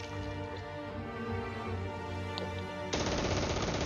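Heavy machine gun fire in the Close Combat 3 war game, a continuous rapid burst of shots that grows louder and harsher near the end, with no talking.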